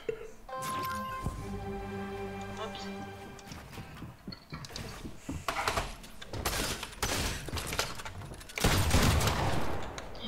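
Video game gunfire in a box fight comes as bursts of rapid shots and impacts between tones and effects, partly under people talking.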